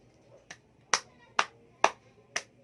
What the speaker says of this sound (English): Let's give 5 claps to all the students who answered.